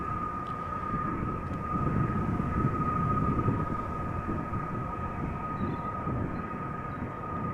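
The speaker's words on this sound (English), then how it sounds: "I think I hear the 777 to Johannesburg spool up on 36 center" A Boeing 777 bound for Johannesburg spools up for takeoff on runway 36 Center at Amsterdam Schiphol Airport, heard from a distance as a steady low roar under a sustained tone that swells a little midway.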